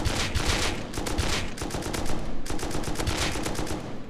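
Rapid automatic AK rifle fire in the survival game Rust, fired unsilenced in continuous bursts that sound loud and close, with brief pauses between strings of shots.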